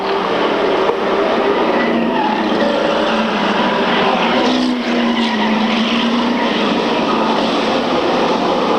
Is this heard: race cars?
yes